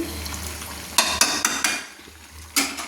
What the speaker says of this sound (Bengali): তো আমি সুন্দর করে নেড়ে নিচ্ছি।